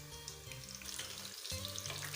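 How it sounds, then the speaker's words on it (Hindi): Fish frying in hot oil gives a steady, close, dense sizzle that crackles throughout with no pauses and no voices. "फिश हमारी फ्राई हो गई है।"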